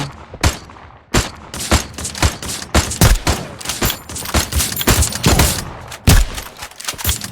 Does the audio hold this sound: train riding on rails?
no